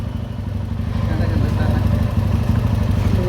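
A motorbike engine runs steadily nearby in a low, continuous idling rumble, with faint voices in the background.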